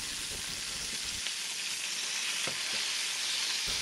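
Venison fillets sizzle steadily in a pan with garlic, rosemary and butter, a dense, even crackling hiss with a few soft clicks of stirring or turning, fairly quiet and alone.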